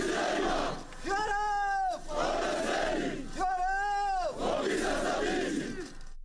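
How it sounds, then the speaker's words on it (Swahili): A crowd roars and ululates at a send-off ceremony for Kenyan troops bound for DR Congo, with two long, sustained high trilling cries rising over the loud, continuous cheering. "Nderemo zilishuhudiwa wakati wa hafla ya kuaga wanajeshi wa Kenya"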